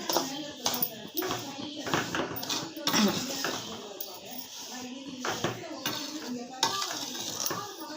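Semolina being dry-roasted with ghee in a pan, stirred and broken up to coat the grains, giving repeated clinks and scrapes of a spoon against the pan under continuous background noise.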